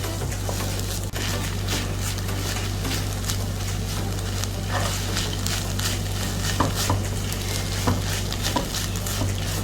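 Urap tempe, tempeh with vegetables, being stirred steadily in a pan: continuous close scraping and clinking of a spatula against the pan over a soft sizzle, with no one speaking.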